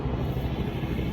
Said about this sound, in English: that's a helicopter going into the hospital